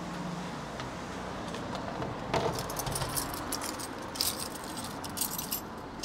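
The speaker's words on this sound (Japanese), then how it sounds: "鍵が多すぎる。" A large bunch of keys jangles while a door is locked up, bright metallic clinks in brief bursts near the start and middle, heard close and fairly quiet over faint traffic rumble.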